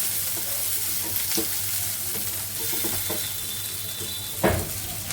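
Chopped onions and green chilies fry in mustard oil in a pan with a steady, close, fairly loud sizzle, broken by a few light clinks of a spoon.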